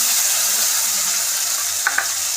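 A spice paste of ginger, cumin and turmeric hits a hot pan for a chicken dish, giving a steady, loud, close sizzling hiss with a couple of faint clicks near the end.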